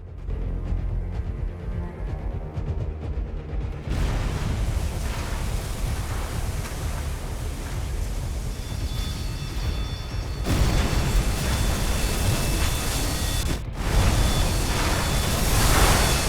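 Torpedo strikes on the battleship HMS Royal Oak in the WWII submarine game UBOAT: a deep rumbling boom swells in, followed by sustained heavy low roaring and further muffled blasts, loud and continuous.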